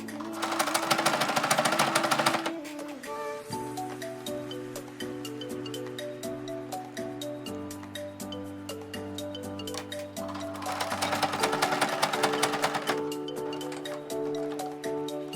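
A sewing machine stitches elastic onto a velvet sequin skirt, running in fast close bursts with a steady mechanical whir, slowing between runs and then speeding up again.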